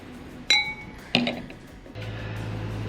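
Two bright glass clinks ring out about half a second apart, like wine glasses touching in a toast, over a quiet background.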